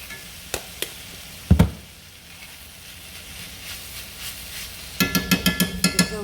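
A spoon clacks against a pan while gochujang is stirred into a spaghetti sauce, with a few scattered knocks and then a quick run of rhythmic taps, close and fairly loud, no talking.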